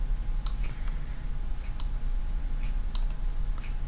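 A computer mouse clicks while drawing curves in Inkscape, giving three or four sharp, isolated clicks spaced over a few seconds above a low steady hum.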